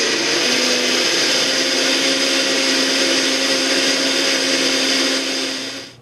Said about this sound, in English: Now we're going to place the lid and beat all the ingredients for at least 40 seconds to a minute.